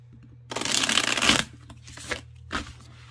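A new, thick-cardstock tarot deck is shuffled up close: one long riffling burst lasting about a second, followed by two shorter quiet flutters of the cards in an otherwise still room.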